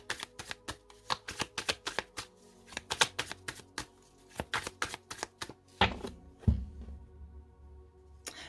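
Oracle cards are shuffled in a rapid run of crisp riffling slaps near the mic, then cut with a couple of heavier thumps and a brief rustle before quiet.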